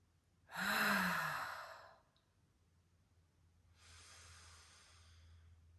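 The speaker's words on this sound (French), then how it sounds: "tu vas expirer par la bouche. Et ça peut être bruyant." A long, loud exhale through the mouth during a yoga breathing exercise, breathy and close, fading over about a second, then a softer, steady breath follows after a pause; no talking.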